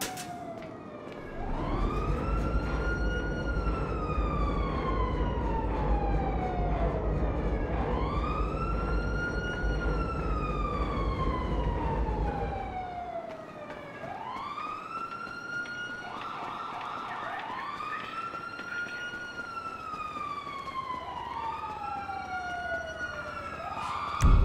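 Wailing emergency siren from Grand Theft Auto V, rising and falling in long repeated sweeps, loud and close, first over a heavy low rumble of traffic or engine, then continuing alone with a second overlapping siren tone.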